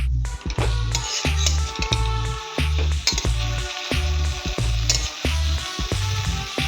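Mashed boiled potatoes with capsicum fry in a pan, a constant sizzle punctuated by rhythmic, repeated scrapes and clanks of a spatula stirring against metal, close and fairly loud.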